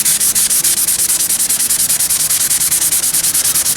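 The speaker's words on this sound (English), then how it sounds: "We can just sand it down level." Rapid, loud rhythmic sanding strokes scrub a leather repair patch down level, a close, even back-and-forth rasp repeating several times per second.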